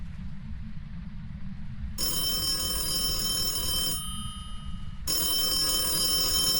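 A telephone rings in the horror video game Phasmophobia, two bursts of bright electronic trilling separated by a short gap, loud and close over a low background rumble.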